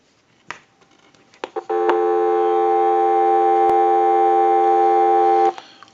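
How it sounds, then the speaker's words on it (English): Dial tone plays from a Western Electric 202 rotary desk telephone, a steady loud tonal hum that starts after a few handling clicks and holds for several seconds before cutting off abruptly. "we want to go ahead and give you some dial tone"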